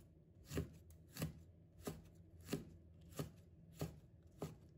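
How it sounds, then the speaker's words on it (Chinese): A knife chops bird's eye chilies into rings on a cutting board, with seven crisp, evenly spaced strikes at a steady rhythm, close and clean against a quiet room. "再准备小米椒，先把头切掉，再切成小圈"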